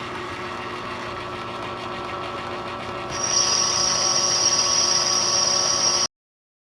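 Machine trimming a metal part, with a steady, loud mechanical hum and whir that brightens into a sharp high whine about halfway through as the cut engages, then stops abruptly.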